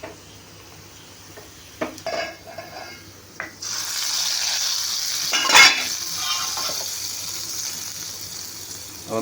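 Hot coconut oil with golden fried shallots poured into a fish curry in a clay pot, bursting into a loud, broad sizzle that holds steady after a few clinks of utensils.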